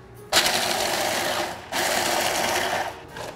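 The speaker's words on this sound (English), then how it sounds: "So we use a food processor, make sure you have some type of port there, otherwise it'll explode." A food processor pulverizes dry ice into snow, a loud continuous whirring grind that starts abruptly, breaks briefly, then resumes at full strength without talk.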